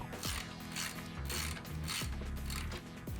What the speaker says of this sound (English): using a hand ratchet and a 17mm long socket, loosen the axle bolt